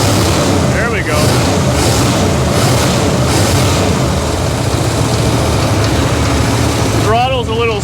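A freshly started engine, just brought back to life on an oversized battery, runs steadily close by with a sticky throttle and oil pressure up, giving a constant loud drone through the whole stretch while voices speak briefly near the start and the end.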